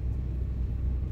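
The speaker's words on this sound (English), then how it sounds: "I'm sorry about my car, but I have no turbo, so as you can hear." A car engine without a turbo gives a low, steady rumble from inside the vehicle, heard alone in a short, unbroken burst.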